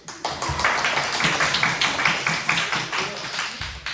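A small group at a weekend lecture camp claps steadily and briskly for a few seconds, close and moderately loud, an even run of palm taps.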